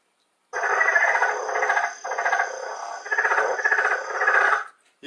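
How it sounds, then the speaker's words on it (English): Leopard frog giving its chattering call, a rapid rattling croak repeated in several bursts with brief gaps, clear and close with no talk. "think of the sort of chattering sound of the leopard frog"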